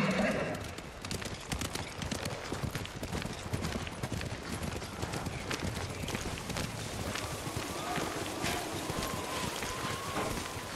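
Horse hooves pound in a steady gallop through snowy terrain in Ghost of Tsushima, a samurai video game, with wind and ambient rumble filling the background and no talk.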